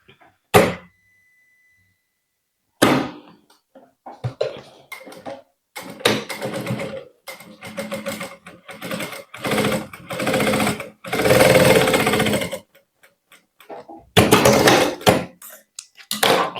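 Domestic sewing machine running a line of stitching close to the raw edge of fabric for a small bag, in several short bursts of rapid mechanical whirring separated by pauses.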